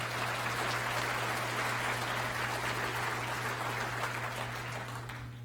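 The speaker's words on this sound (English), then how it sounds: "Let's give them another round of applause." Applause from an audience for a school board at a district address, a soft, steady wash of clapping heard at low level under a constant electrical hum, tapering off toward the end.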